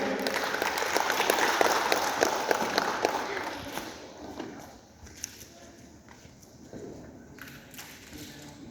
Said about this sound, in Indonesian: Kita berikan aplaus yang meriah.